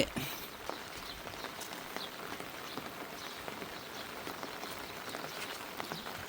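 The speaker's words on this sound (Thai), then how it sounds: "ฝนตกทุกวัน" Steady rain falling outdoors during a long spell of day-and-night rain, a continuous hiss scattered with sharper drop ticks, moderately loud and unbroken with no voices.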